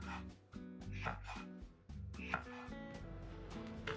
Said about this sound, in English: we'll need to pick out some nice stems of cilantro and slice up a few jalapenos